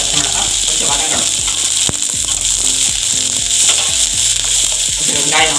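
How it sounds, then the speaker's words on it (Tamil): Onion and three green chillies sautéing in a pan for carrot poriyal, a loud dense sizzle close by with frequent spatula clicks and scrapes over the constant crackle. "வெங்காயம் பச்சை மிளகாய் கொஞ்சம் வதங்கணும்."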